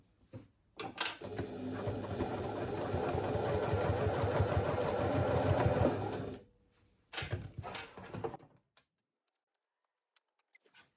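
A sewing machine basting pouch straps in place, running in one steady whirring stretch of about five seconds, then a short second burst and a few faint clicks before silence.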